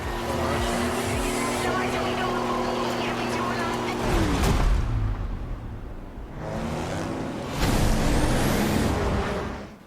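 Car engines racing in the video game Forza Horizon 5, droning loudly with rising and falling pitch, a sharp shift midway and whooshing passes, under a voice.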